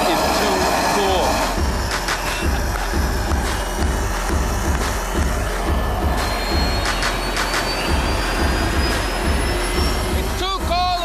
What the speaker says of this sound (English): His jet-powered airport tug is ridiculously cool